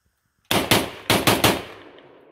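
A Type 81 rifle bump-fired at an outdoor range: five loud, close shots in two quick uneven bursts, ending with a ringing decay that fades out.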